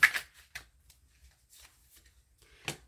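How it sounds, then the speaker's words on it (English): Tarot cards shuffled by hand in a few quick riffling bursts with quiet gaps between them, close and fairly soft, no talking. "Every time I shuffle, it's like, I just want one."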